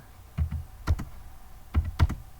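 Keystrokes on a computer keyboard, a few short clustered taps in two small bursts, close and fairly loud with no voices.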